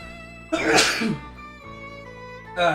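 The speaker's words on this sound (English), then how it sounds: "Hold on, I gotta sneeze." One sharp sneeze bursts out close up, followed by a softer second burst of breath near the end over a low steady hum.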